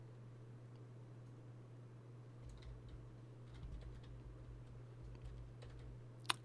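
Soft, scattered keystrokes on a computer keyboard tick faintly over a low steady hum, ending in a sharper pair of clicks, with nobody talking.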